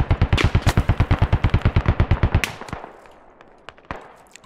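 Automatic gunfire in the video game Squad, on a Middle East Escalation mod battlefield: a rapid burst of about twenty loud, close shots runs for two and a half seconds. It is followed by scattered fainter distant shots and rumble.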